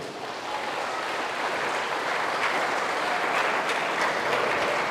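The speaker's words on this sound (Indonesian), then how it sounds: "Tepuk tangan jo tu remaja na poso bulung." A church congregation applauds the youth group, a steady, full wash of clapping that holds evenly throughout with no voices over it.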